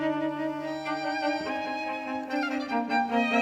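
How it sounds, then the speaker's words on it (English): Recorded string quartet playback with sustained, harmonically rich bowed chords shifting between notes, steady and fairly quiet, with no talking. "This is a string quartet, like I said, recorded 17 years ago."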